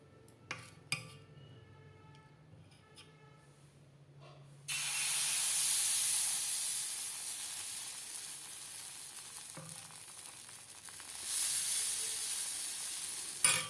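Chitoi pitha batter hits an oiled tawa with a sudden loud sizzle that stays steady and then fades, followed by a second sizzle burst; before it, quiet clinks of utensils.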